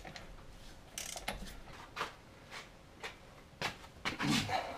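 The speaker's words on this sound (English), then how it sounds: "We'll take the lugs off, and we'll go from there." A ratchet wrench works the lug nuts on a Jeep Wrangler JLU Rubicon, a few short clicking and ratcheting bursts spread over a few seconds, fairly quiet, with outdoor background noise.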